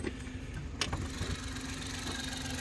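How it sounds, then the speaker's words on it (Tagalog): A 4x4 turbo Smiley Wagon van idles quietly with a soft, steady low hum and a brief click near the start, heard alone and faint. "silent ng andar sa makina Ito, Smiley Wagon mga boss na 4x4."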